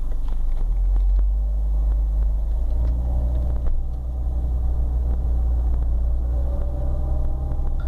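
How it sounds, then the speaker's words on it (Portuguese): A Peugeot 307 with an AL4 automatic transmission pulls away from a standstill under light throttle, its engine a steady low rumble with gentle rises as it gains speed, close and continuous with no talking. "vamos ver como que o carro se comporta numa arrancada com o D leve"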